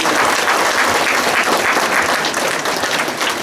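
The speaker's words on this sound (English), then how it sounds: "how about one more round of applause for Ryan Howard's" Applause at the 2017 Crystal Motor Speedway awards banquet, a loud, dense round of clapping from a large crowd that holds steady throughout.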